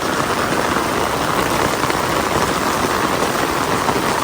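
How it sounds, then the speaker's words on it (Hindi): Heavy rain pours steadily in an Indian street, flooding the drains, a dense, even hiss of drops hitting surfaces close by, with no pause. "बहुत तेज बारिश आ रही है"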